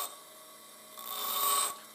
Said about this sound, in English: Slowly bring the drill bit into the wheel, grinding away a little bit